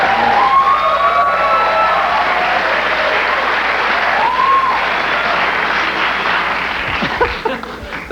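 A studio audience claps loudly and continuously at a taped talk show, a dense, sustained wash of applause that tapers off near the end.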